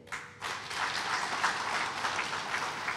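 An audience at a formal legal conference in Africa breaks into sustained applause, a dense, even wash of many hands clapping together, starting abruptly and holding steady at moderate volume.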